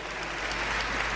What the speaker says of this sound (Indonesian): Oh, give the Lord a big clap.